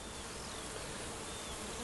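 Honeybees buzz steadily and densely around an old wooden bait hive set on pallets by a hedge, a continuous close swarm hum filling the whole moment without voices.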